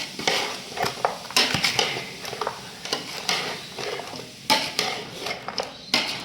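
Chicken 65 marinade is mixed with ginger-garlic paste, flours, lemon juice and spices, producing wet squelching and slapping in a bowl with scattered clinks of utensils, close and steady throughout, with no talking.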